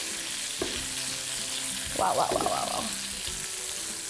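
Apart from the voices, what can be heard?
mushrooms sizzling and being stirred in a hot pan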